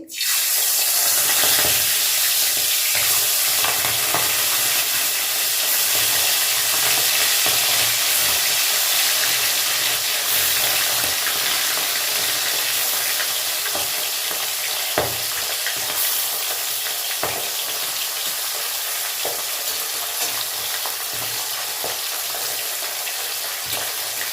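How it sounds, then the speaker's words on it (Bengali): Small fish frying in hot oil in a wok give a loud, continuous close sizzle, broken by occasional clicks and scrapes from stirring, with no talk. "মাছগুলো ভেজে নিচ্ছি"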